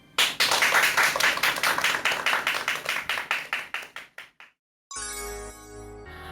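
A lecture audience clapping in a rhythmic, unison beat that speeds up slightly and then stops abruptly, followed after a brief silence by a bright, jingly musical sting.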